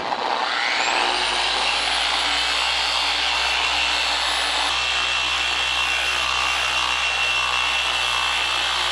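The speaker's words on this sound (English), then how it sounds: "So I'm going to go ahead and polish this section out" A machine polisher runs continuously on a Tesla's painted panel, a loud, steady whirring drone as it spins up in the first second and then holds an even pitch throughout.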